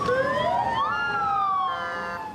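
Ambulance sirens wail in Baghdad, several overlapping rising and falling tones sounding loud and steady over street noise.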